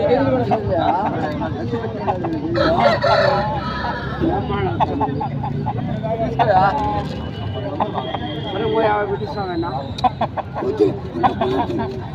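Roosters at a crowded weekly livestock market in Rayachoti, Kadapa district, clucking and calling amid steady crowd babble, with a few louder bird calls rising over continuous nearby chatter.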